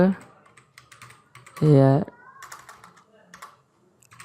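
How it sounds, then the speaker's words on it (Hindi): A computer keyboard clatters with quick, irregular keystrokes, typing text into a document as part of a computer course lesson. Someone talks over it. "अब यहाँ पर कुछ टाइप करते हैं"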